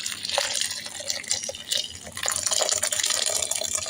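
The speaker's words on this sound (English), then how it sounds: "And now I'm going to pour the broth in." Broth poured into a pot of faux pho, a Vietnamese noodle soup, giving a steady close liquid splashing with small drips and gurgles, no talking.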